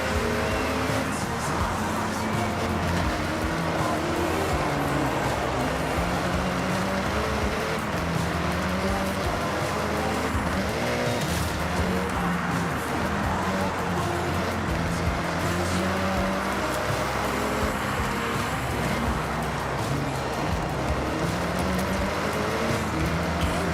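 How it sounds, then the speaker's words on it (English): Racing video game car engine droning steadily and loud throughout, as if another car drives close behind, with a dense continuous roar and no pauses. "God, I hate how I can hear that car so close."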